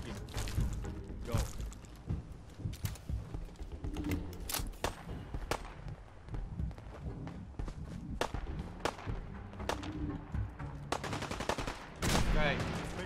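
Repeated gunfire in Fallout 4, with sharp loud shots and quick bursts cracking out at irregular intervals over a busy rumbling game background, and someone talking between the shots.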